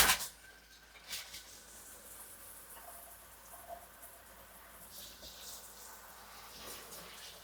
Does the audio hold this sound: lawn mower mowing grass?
no